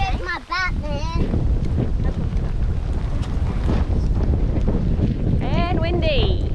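Strong wind, about 10 knots, roars and buffets the microphone throughout at Kata Tjuta in Australia's Northern Territory, a constant heavy rush, with brief shouted voices near the start and end.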